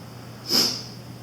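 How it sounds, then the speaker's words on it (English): A single quick sniffle after eating a 7 Pot Brainstrain hot pepper, a short airy intake through the nose, close by against a quiet background hum. "As you hear a little sniffle there."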